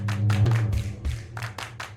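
Children clapping at an open-ground street show, a handful of distinct, fairly soft claps spaced irregularly over a low droning background.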